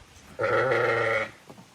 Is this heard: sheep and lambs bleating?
yes